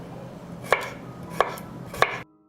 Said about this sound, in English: I will chop the garlic.